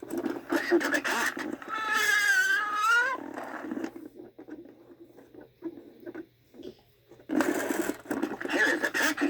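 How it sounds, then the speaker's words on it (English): A See 'n Say talking toy plays a cat sound, a wavering meow-like tone lasting about two seconds, surrounded by speech before and after. "Listen to the cat."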